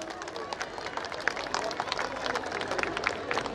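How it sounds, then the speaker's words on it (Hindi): Audience applause at a cultural folk-art stage event, a dense steady crackle of many hands clapping throughout, moderately distant, with a voice faintly mixed in. "एक बार जोरदार तालियां उनके लिए।"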